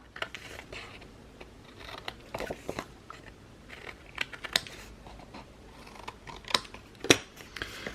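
Scissors cutting the four corners of a paper pocket for a handmade album. Close, crisp snips and paper crunches come in irregular bursts, with one sharper cut near the end and no talk.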